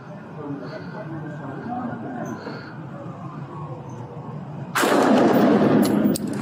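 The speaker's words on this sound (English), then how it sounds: "Shots fired, suspect is down." Gunfire during a Denver police shooting, caught on a body camera: a sudden loud, harsh burst of shots cuts through the ongoing ambient noise and muffled voices, lasting over a second before dropping back.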